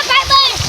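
A large stone drops into deep water with a short splash while someone talks loudly over it.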